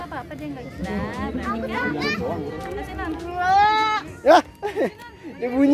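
Goats bleat repeatedly at a petting farm during feeding time, with several loud, wavering calls mixed among the lively chatter of children and adults talking close by.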